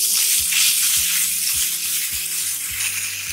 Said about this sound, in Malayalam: ഇനി ഇതിലേക്ക് നമുക്ക് തക്കാളി ചേർത്ത് കൊടുക്കാം.